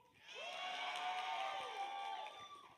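A pageant audience cheers and whoops in a rising swell of voices that lasts a couple of seconds and then fades, fairly faint and a little distant.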